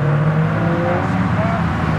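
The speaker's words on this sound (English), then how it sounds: "Here comes some cool cars." Sports cars leaving a car show rev and rumble close by, a steady loud engine note with a brief rising whine, while people talk over it.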